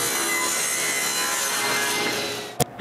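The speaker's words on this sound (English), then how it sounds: "I need to cut a big chamfer in front." Steady hand sawing on wood, cutting a large chamfer on a wooden guide bar for a homemade bandsaw, continuous close rasping strokes with a short sharp knock just before the end.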